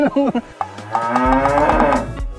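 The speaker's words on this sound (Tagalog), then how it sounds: "mukhang natatandaan pa ng kalabaw yung tropa na hinabol niya last time" A carabao water buffalo gives a long, loud, close moo that follows a few short grunting calls, then holds a deep sustained bellow to the end.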